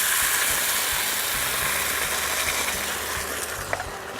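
Mushroom vegetable broth comes to a boil in a pot, giving a steady, fairly loud hiss and bubbling wash that holds throughout with a few faint clicks.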